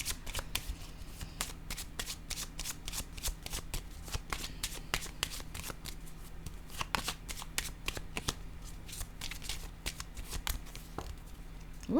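Tarot cards handled and shuffled in a rapid, continuous series of crisp flicks and riffles, close and fairly loud throughout, with no talking.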